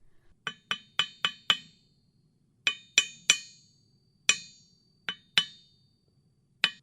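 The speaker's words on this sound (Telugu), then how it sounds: "నువ్వు చెక్కుతున్నప్పుడు నీ ఉలి అలా పటపట ధ్వనిని చేస్తున్నదేమిటి" Chisel tapping on stone while carving a statue, sharp bright clinks struck one by one in quick clusters separated by short pauses, close and clear over near silence.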